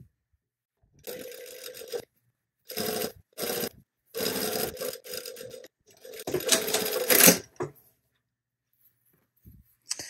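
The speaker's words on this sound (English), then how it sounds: "now I'm just going to sew from this edge at my 1/4 inch all the way around" Sewing machine stitching a quarter-inch seam around a shirt piece, running in several close bursts of rapid mechanical whirring with brief silent pauses between them.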